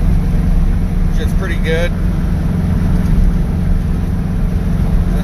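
A Baja Bug on bigger tires, running Weber IDF 48 carburetors, cruises at about 60 mph just under 3,000 RPM, its engine a steady low hum heard from inside as someone talks briefly over it.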